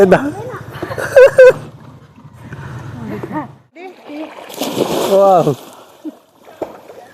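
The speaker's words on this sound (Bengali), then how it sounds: "সাঁতার প্রতিযোগিতা হচ্ছে এখন বর্তমানে" Swimmers splash through the water during a swimming competition at the Kulgachi Shiv temple pond in Nadia. Brief bursts of splashing come through amid loud, excited voices and shouting.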